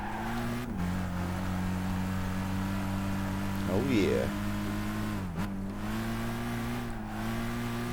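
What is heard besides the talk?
Volkswagen Lupo car engine driving in video game Gran Turismo 5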